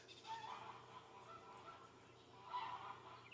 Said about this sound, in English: there's a giant goose back there honking